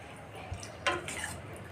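A spoon stirs sambar in a pot, giving a brief metallic scrape and clink against the pot, faint and close.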